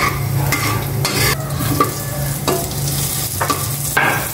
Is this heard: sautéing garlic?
yes